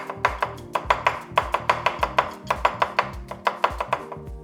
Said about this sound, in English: The sound you're hearing is my cufflink hitting my knife.